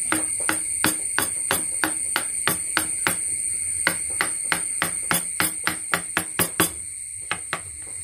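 A wooden mallet strikes a chisel to carve wood: about twenty crisp, evenly spaced knocks in a steady rhythm, close and clear, with no voices.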